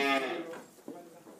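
A young calf moos on a cattle farm in winter, with one fairly close drawn-out call that fades, followed by a fainter second sound.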